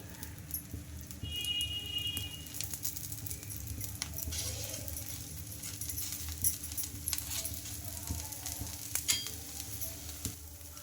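A dosa made from wheat rava and ridge gourd sizzles steadily in oil on a hot pan, a continuous soft frying hiss with light crackles running throughout at moderate closeness.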